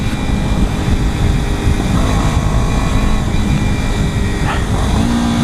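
A Kawasaki Ninja 250 ridden through streets on a Malibu road ride, its engine making a loud, steady, buzzing roar with wind rush that never lets up, ending in a short rising whine.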